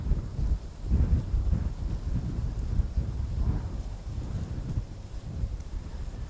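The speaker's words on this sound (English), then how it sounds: "Feels like the wind is picking up a little bit." Strong gusting wind at Schiphol airport, loud low buffeting rumble against the microphone with uneven surges throughout and no voices.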